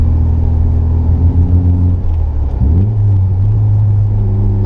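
Porsche 944 engine pulling hard on a back road, a loud close in-cabin drone that drops in pitch at a gear change and then climbs again under acceleration.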